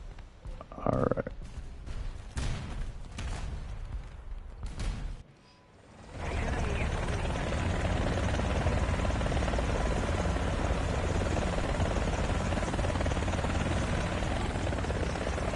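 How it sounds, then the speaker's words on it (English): Helicopters hover nearby on a helipad in War Thunder, a steady dense rotor and engine roar that swells in and fills the scene after several seconds of scattered thumps and clatter, with no talk. "There are a lot of helicopters around me, it sounds like."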